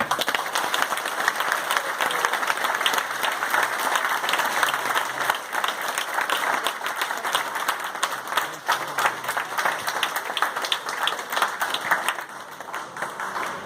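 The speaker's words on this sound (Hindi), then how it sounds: "आप अपने लिए एक जोरदार तालियां बजाएं।" Loud, dense applause from a large seminar crowd in Patna, Bihar, a sustained roar of many clapping hands that holds steady for over twelve seconds before thinning at the close.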